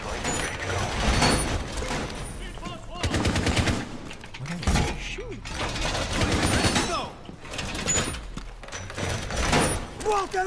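Gunfire in Rainbow Six Siege comes as rapid bursts and sustained automatic fire with mechanical clatter. Voices talk over much of it.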